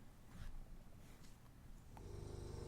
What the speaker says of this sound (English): You hear that snoring?